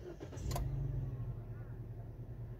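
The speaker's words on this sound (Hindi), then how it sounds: "अभी मैं आपको स्टार्ट करके दिखाता हूँ।" A 2012 Nissan Juke engine cranks and starts after a brief clatter, then settles into a steady low idle heard close by.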